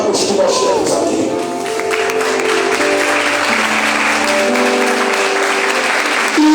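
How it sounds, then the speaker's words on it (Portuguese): A church congregation applauds in a steady, dense wash of clapping that fills the room and holds at an even, loud level without a break. "eu queria aqui que os jovens que estão aqui aplaudissem a Deus por esses de cabelos brancos que nós temos aqui"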